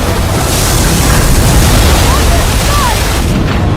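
A loud, roaring rush of water surges continuously, like a huge wave crashing, then cuts off abruptly.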